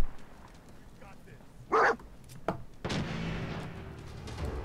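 A dog in the Fallout 4 video game gives a short, loud bark midway, surrounded by ambient game sound and a few other brief noises.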